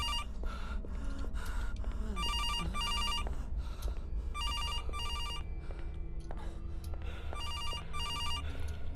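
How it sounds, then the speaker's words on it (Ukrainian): A telephone rings in the horror survival game CASE 2: Animatronics Survival, with repeated bursts of shrill electronic trilling in a steady pattern over a low ambient hum, alone without talk. "Де телефон? Телефон, телефон, телефон."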